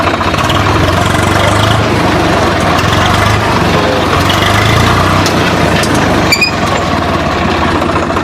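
A 2020 Swaraj 742 XT tractor's diesel engine runs steadily in high gear, a loud, continuous low rumble with no talk over it.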